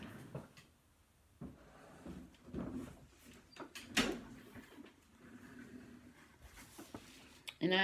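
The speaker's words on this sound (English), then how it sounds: "Just a minute, I'm going to shut the door." A door is pushed shut indoors, with a sharp thud near the middle and another knock at the end, among quieter rustles, handling noises and a few brief voices.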